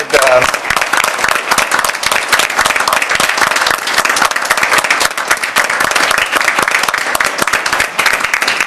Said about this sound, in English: I would just like to applaud